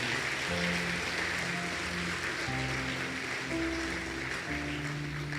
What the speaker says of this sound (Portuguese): Você pode aplaudir a Ele? Por favor, faça com alegria.